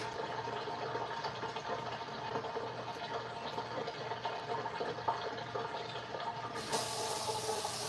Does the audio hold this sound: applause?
no